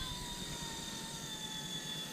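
An Eachine E120 RC toy helicopter on its first flight gives a steady, high whirring rotor and motor whine, constant and fairly faint throughout.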